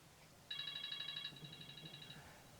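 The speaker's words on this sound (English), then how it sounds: "I just had someone make a phone call to my cell phone on cue." A cell phone rings with an incoming call, a faint repeating electronic tone pattern heard at a distance over low background noise for under two seconds.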